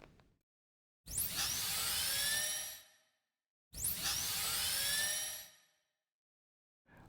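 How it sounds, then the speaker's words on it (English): A drill sound effect sampled from the TV show Dexter plays twice, each a roughly two-second burst with a rising whine that settles into a sustained high-pitched grind, separated by a short silence and cleanly isolated. "I did manage to grab this drill sound though"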